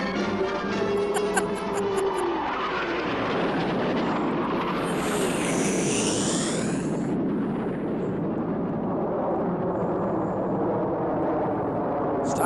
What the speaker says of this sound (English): Stock footage of formation flying.